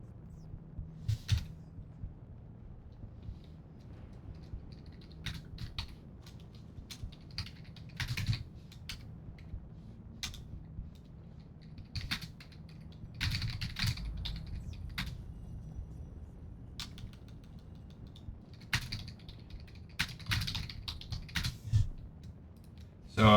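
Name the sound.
typing on a computer keyboard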